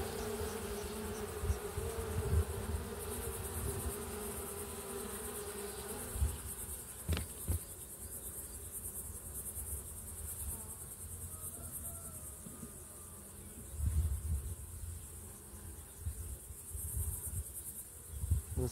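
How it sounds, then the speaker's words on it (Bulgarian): A hive of honeybees, its lower box full of bees, gives a steady, dense buzz close by, holding evenly throughout with no voices. "Долния корпус гледам, че е пълен с пчели."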